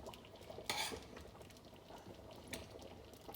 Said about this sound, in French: bien mélanger les boulets pour qu'ils baignent bien dans la sauce